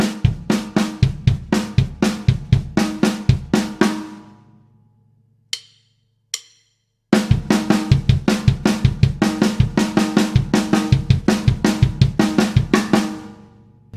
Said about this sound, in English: This phrase is built around 16th notes, played as a single stroke roll, and the concept is substitution